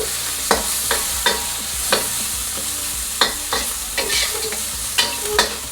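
Shrimp frying in a hot wok, partly cooked: a steady close sizzle with about a dozen sharp spatula scrapes and stirs spread unevenly through it, and no talking.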